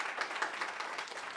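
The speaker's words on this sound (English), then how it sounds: "applause broke out when lawmakers defined their views on the abortion question" A brief burst of applause fills a state House committee hearing room, many hands clapping in a dense, moderately loud patter that lasts just over a second.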